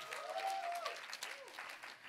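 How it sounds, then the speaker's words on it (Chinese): A church gathering's audience claps and cheers together, a soft, steady patter of applause with a few raised voices rising over it. "欢呼一下"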